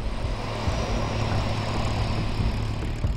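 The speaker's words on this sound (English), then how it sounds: "Chalk's Ocean Airways flies seaplanes in and out of this busy waterway" A Chalk's Ocean Airways seaplane on a Fort Lauderdale to Bahamas flight roars with a steady, dense propeller-engine drone over a busy waterway, loud and unbroken throughout with no voices.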